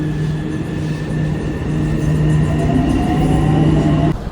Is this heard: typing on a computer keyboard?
no